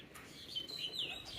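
A bird at a pigeon farm gives a few faint, high chirps, heard close but quiet over a soft background hush.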